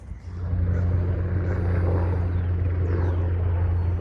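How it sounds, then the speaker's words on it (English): A helicopter flies over, its engine and rotor forming a steady, droning low rumble that swells in quickly and then holds loud and close. "it never gets old seeing those helicopters"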